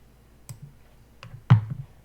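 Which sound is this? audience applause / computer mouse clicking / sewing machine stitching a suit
computer mouse clicking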